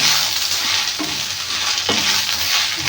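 Gongura (sorrel leaf) pickle being mixed in a pan, with a loud continuous hissing sizzle and occasional scrapes and knocks of the stirring utensil, close and steady throughout.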